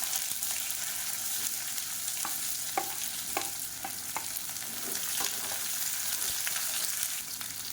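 Onions with dried red chillies and curry leaves fry for hotel-style tiffin sambar, a steady close sizzle broken by a few sharp scrapes and taps of a stirring spoon against the pan.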